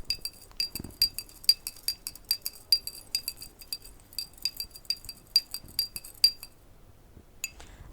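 A spoon stirs sand in water inside a glass, knocking out a quick run of bright clinks against the glass that stops briefly and then ends with one last tap, close and clear with no talk.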